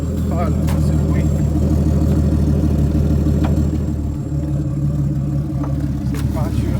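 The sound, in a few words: car engine running, possible alternator or ground fault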